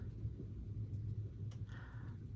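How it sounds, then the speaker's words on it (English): Low, distant thunder rumbles steadily through the whole stretch, faint and continuous with no sharp crack, and no one talks over it. "Oh, that would be thunder."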